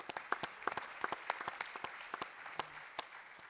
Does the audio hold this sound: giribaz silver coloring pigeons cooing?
no